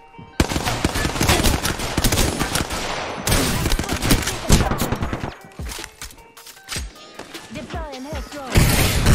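Rapid-fire automatic gunfire from a fast-shooting weapon in a video game, dense loud bursts nearly continuous in the first half, then sparser shots and thuds, with a voice talking intermittently.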